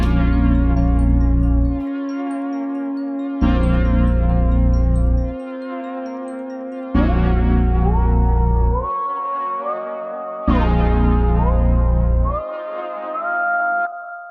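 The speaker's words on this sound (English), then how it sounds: "I put in this really simple bass pattern" Simple bass pattern played on a Roland 60s patch from Octave Deluxe 2, in a beat, entering in four repeating phrases with sustained low notes under brighter arpeggiated synth lines.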